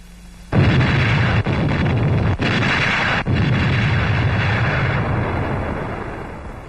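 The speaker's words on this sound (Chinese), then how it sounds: "是敌人乱打炮" Continuous heavy artillery shelling from a Chinese war film about volunteer tank crews in the Korean War, a loud rumbling barrage of booms that starts abruptly and rolls on with a few sharp breaks, no talk.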